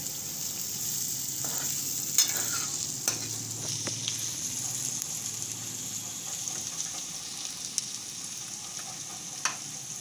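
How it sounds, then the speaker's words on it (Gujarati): Potato, chili and cabbage sambharo cooking in a pan, a steady soft sizzle with occasional light clicks and stirring scrapes, no talking. "હવે આપણે આને ઘડીક ચડવા દેવું."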